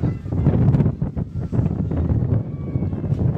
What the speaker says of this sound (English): Very windy at Thompson Park in Navua.